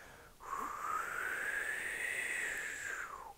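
A person imitates wind with the voice, a breathy whooshing howl that rises, holds and slowly falls away over about three seconds, close and moderately loud, with no other sound around it.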